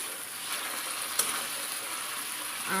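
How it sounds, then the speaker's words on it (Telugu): Country chicken pieces frying in hot oil, an even, hissing sizzle with a single sharp crackle partway through, close and moderately quiet, with no speech. "ఆయిల్లో బాగా ఫ్రై అవనిద్దామా"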